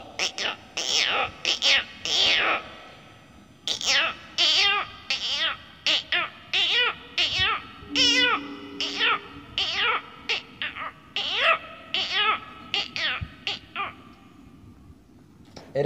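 A boy imitates a frog's croaking call with his voice, giving a long run of short, rhythmic vocal bursts in quick groups, close and fairly loud, with speech mixed in.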